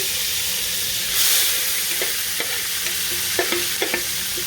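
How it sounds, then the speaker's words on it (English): Seasoned chicken thighs frying in a pot on the stove, a steady close sizzle with a brief steamy hiss, then light scraping taps as a utensil stirs. "And you stir so that these can be brown"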